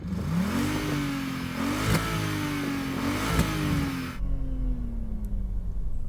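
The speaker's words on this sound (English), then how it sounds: "Sounds like a Citroen C5." A Citroen C5 car engine revs up and down repeatedly, the pitch climbing and falling in surges, then settles to a lower idle drone.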